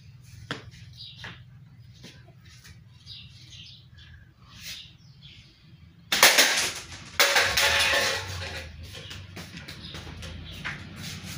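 A cheap hunting slingshot is shot outdoors, a sharp snap of the band followed by a brief impact, with birds chirping faintly in the background before and a burst of rustling noise afterward.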